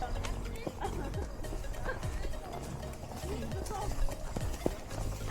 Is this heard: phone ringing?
no